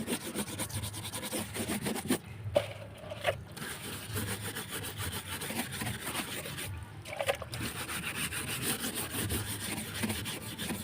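Old paint is being scraped off wood in steady, gritty rubbing strokes that repeat through the whole stretch, broken by two short pauses, close and moderately quiet with no talking.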